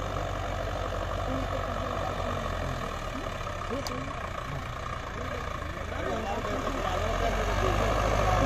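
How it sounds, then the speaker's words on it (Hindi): Sonalika DI-55 tractor, 58 horsepower, running in second gear, with a steady low engine drone heard continuously under someone talking. "ये फिलहाल हमारा जो DI-55 है 58 पावर का, तो दोस्तों ये दूसरे गियर में चला हुआ है फिलहाल"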